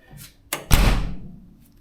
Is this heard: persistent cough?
no